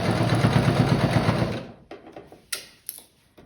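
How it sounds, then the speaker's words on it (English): A sewing machine runs in a steady close whir while back stitching the edge of a cloth face mask, then stops after about a second and a half, leaving a few soft handling clicks. "back stitching each side for strength"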